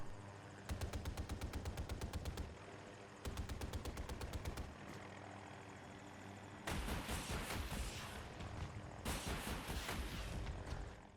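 Helicopter weapons firing in Battlefield 2042, rapid machine-gun bursts in two rattling volleys followed by heavier, dense cannon or rocket barrages, loud and alternating with brief pauses over the rotor hum.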